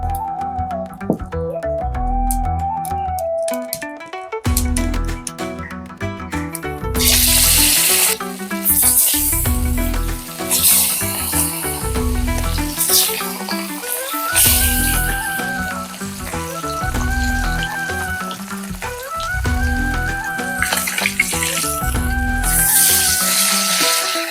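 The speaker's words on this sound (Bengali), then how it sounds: "চলুন এবার মাছটা ভাজা করে নিই।" Pieces of katla fish sizzle and crackle in hot oil in a pan, a steady close frying hiss with bursts of spitting, under a loud looping music track.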